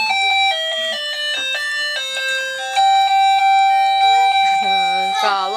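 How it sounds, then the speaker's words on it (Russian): An indoor doorbell plays a long, clear chiming bell melody at close range, tone after tone in a steady tune, ending in a warbling flourish. "Колокольчики звенят."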